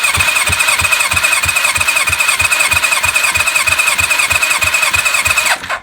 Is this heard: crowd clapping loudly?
no